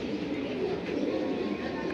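Pigeons in a loft, a cream-eyed hen among them, cooing softly and steadily in a low, continuous murmur with a faint background hiss, quiet and fairly close.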